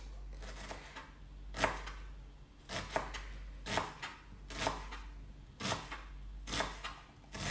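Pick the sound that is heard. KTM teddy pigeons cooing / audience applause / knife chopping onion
knife chopping onion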